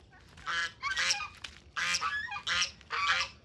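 Geese honk repeatedly in loud, harsh bursts, several calls overlapping in an uneven rhythm, close by and with no talking.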